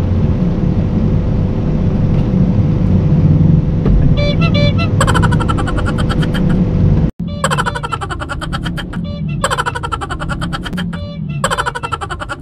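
Saturday road traffic in the Philippines heard from inside a delivery vehicle, with a steady engine rumble and then a series of sharp, repeated horn honks cutting in and out.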